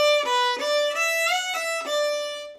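Irish fiddle played solo and close, a short phrase of bowed notes carrying an overlapping note into the second section of a tune, smooth and connected, with the last note ringing out.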